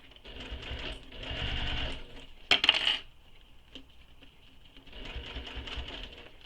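A domestic sewing machine stitches a circular bag in two runs of rapid, even whirring with a short pause between, plus a brief metallic clatter in the middle, close and fairly quiet.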